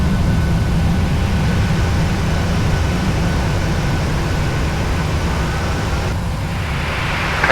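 Airliner engines roar loudly and steadily with thrust reversers after landing in a flight simulator, a continuous low rumble that shifts in tone near the end.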